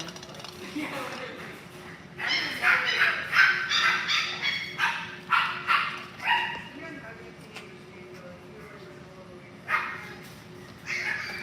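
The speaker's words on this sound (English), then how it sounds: "These are our Yorkie puppies. We have 2 litters going on, running around in here." Yorkie puppies from two litters at a breeder's kennel yap in a quick run of sharp, high barks and yips, close by, then fall quiet before one more bark. Faint whimpering sits underneath.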